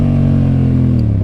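A Yamaha MT-07 motorcycle engine revs loud and close, a steady throaty drone whose pitch sags slightly as the throttle eases, heard alone with no talking.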